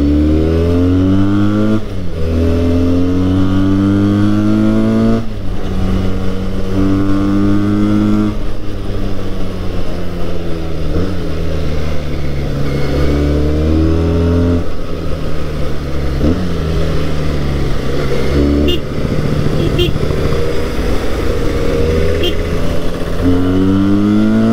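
Benelli 302R 300cc sports bike engine on a ride to Yelagiri, heard from the saddle: loud continuous exhaust drone with rising and falling revs through gear changes, and steady wind rumble throughout.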